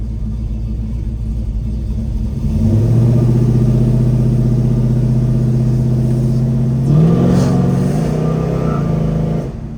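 A 1970 Chevrolet Chevelle engine idles with a deep rumble, then revs up and holds a steady, louder drone, with a second brief rise near the end.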